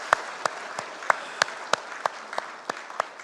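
A church congregation claps together in a steady, evenly spaced rhythm, roughly three sharp claps per second, moderately loud with a soft room background and no talking.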